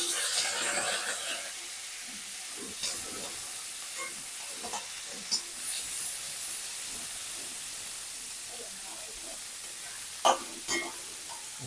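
Chicken mince sizzling in a hot pan after frying eggs, a steady hiss of frying with occasional crackles and pops, moderately close and continuing without talk.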